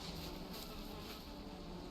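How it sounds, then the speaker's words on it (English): Bees buzz in the Valheim video game, a steady, soft insect drone that holds unbroken for the whole stretch with no voices over it. "beautiful happy bees"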